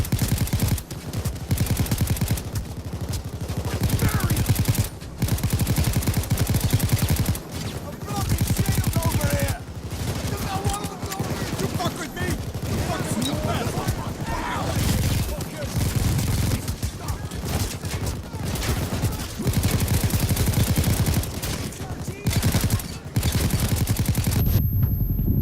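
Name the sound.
SMG gunfire in video game Payday 2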